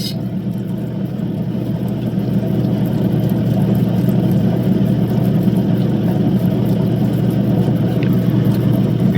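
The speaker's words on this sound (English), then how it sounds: "This is where our diamond wheel will come in handy, because we want to move some material real quick" A diamond wheel grinds Mintabie opal from start to finish, giving a steady, loud mid-range machine whir with no pauses and no voices.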